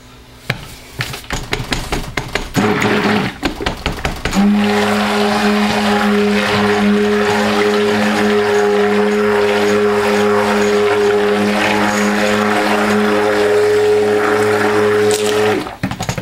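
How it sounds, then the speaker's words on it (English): A stick blender mixes purple colorant into cold process soap batter, its motor starting after a few seconds of clatter and then running loud and steady for about ten seconds before cutting off. "My stick blender will blend that in,"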